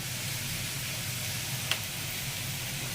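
Beef and vegetables sizzle steadily in a hot pan, a continuous close hiss with a brief clink partway through.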